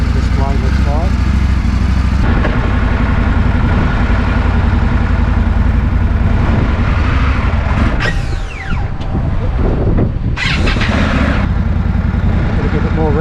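Indian Scout Classic motorcycle engine running after start, a low rumbling idle with occasional revs and mechanical noise, heard close up while someone talks over it.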